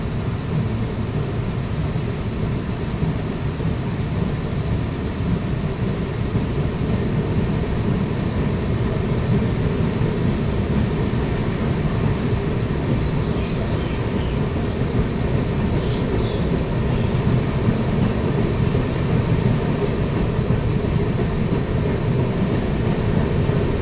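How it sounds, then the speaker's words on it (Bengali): A moving train after leaving Jajpur Keonjhar Road station gives a loud, continuous low rumble and rolling rattle of wheels on track, steady and close from inside the carriage, with no talk. "এই মুহূর্তে আমাদের ট্রেন ছেড়ে দিল যাজপুর কেওনঝর রোড"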